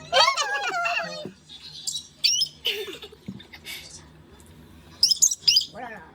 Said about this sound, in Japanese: 鳥の鳴き声を聞いたら